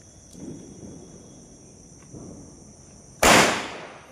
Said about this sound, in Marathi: फटकन फुटली